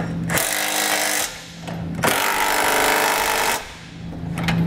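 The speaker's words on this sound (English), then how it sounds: "I'm going to come back with a 3 quarter inch socket and I'm going to snug up all my hardware" A power tool with a 3/4 inch socket snugs up trailer hitch hardware on a 2018 Mazda CX-9, buzzing in two loud, sustained bursts with a brief pause between, plus a short final whir nearby.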